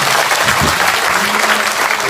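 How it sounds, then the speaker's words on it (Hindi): A crowd applauds loudly at a public gathering of contract and outsourced employees, a dense continuous burst of clapping that stays strong and even throughout. "यस सर के लिए दोनों हाथ उठा के जोरदार तालियां।"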